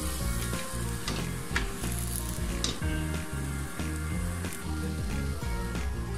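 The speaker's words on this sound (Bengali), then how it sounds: "আমি আজকে সয়াবিন তেল দিয়ে ভেজে নিচ্ছি" Restaurant-style aloo paratha shallow-frying in soybean oil while being flipped. A loud, continuous close-up sizzle with faint crackles carries on alone, without speech.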